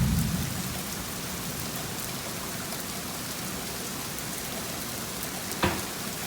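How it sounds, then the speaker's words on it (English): Steady, dense heavy rain pours down without a break, and one sharp crack of thunder stands out near the end over the constant hiss. "It's heavy rain."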